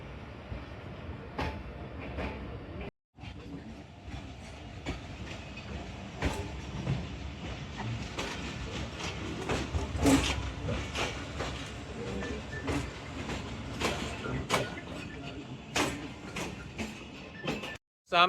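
A train pulls out of a station on the Narowal section railway, its wheels clicking in a repeated clickety-clack over a low rolling rumble, with muffled voices inside the carriage.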